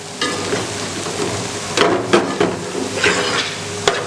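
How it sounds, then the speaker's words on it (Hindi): Leftover roti chori is stirred with caramel in a pan, giving a steady frying hiss. A few clear scrapes and clinks of a spoon stand out near the middle and the end, close up and with no talking. "अच्छे से मिक्स कर लेंगे इसे।"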